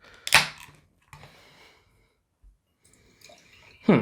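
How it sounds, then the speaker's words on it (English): A can of Thin Man Brewery Diplomatic Immunity IPA, brewed with Simcoe and Mosaic hops, cracks open with a sharp near pop, then fizzes and pours into a glass with a final loud splash of beer. "let's crack it open, pour it into the hashtag proper glassware"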